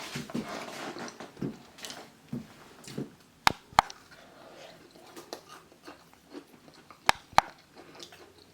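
Close, faint crunching and biting while someone chews crunchy fried Nigerian buns flavoured with nutmeg, with irregular soft chews and a few sharp clicks.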